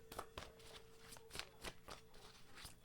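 Tarot cards riffle and snap in a series of quick, close, crisp bursts, with soft slaps as a card is pulled, fairly quiet against a faint steady hum and no talking.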